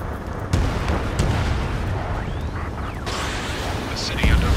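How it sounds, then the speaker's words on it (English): Rumbling explosions and bursts of gunfire from an Ace Combat 7 mission over a city under martial law, a dense, continuous battle din with a few sharper cracks, spoken dialogue running over it. "Gunfire and the roar of jets echoing through the streets"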